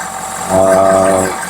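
A 2012 Ford F250 Super Duty with the 6.7 engine runs close by after reassembly, a steady loud idle that rises briefly midway with a droning tone before settling.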